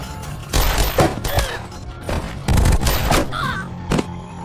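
Several loud, sharp gunshot-like bangs ring out in an action scene set in Caracas, uneven and spaced across a few seconds, with crashing noises and short bird-like cries mixed in.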